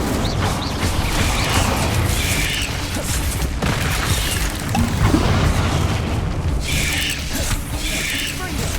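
A burst of the Incendio fire spell from the Hogwarts Legacy video game, a dense, roaring whoosh and crackle that runs steadily for the whole stretch, with heavier surges near the middle and the end.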